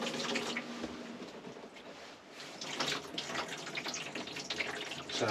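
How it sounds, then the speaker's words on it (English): Water gushes steadily from a motorhome tap, a close, continuous hissing flow with slight surges in strength and no talking. "So take a bit to come through because there'll be cold water there, so it's coming out."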